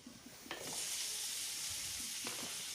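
Finely chopped tomato stirred and sautéed with Everest masala in a pan for paneer bhurji, a loud broad sizzle that surges up and holds steady, punctuated by two quick spatula scrapes against the pan.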